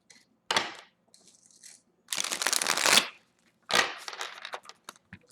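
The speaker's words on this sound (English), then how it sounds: "Okay, one more shuffle and we'll start." Playing cards are shuffled in three close bursts of riffling and bridging, each a brisk rattling flutter with short pauses between.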